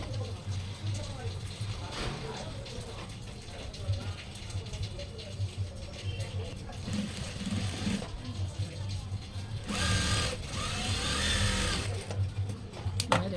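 A sewing machine stitches a doctor's coat in continuous bursts of rapid mechanical whirring, close and steady, with someone talking over it at times.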